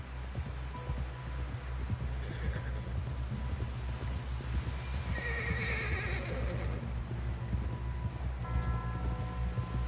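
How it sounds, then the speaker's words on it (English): A horse whinnies loudly over a steady clip-clop of hooves, with rumbling background noise throughout and no talking, from the video game Red Dead Redemption. "Someone help John down off this horse"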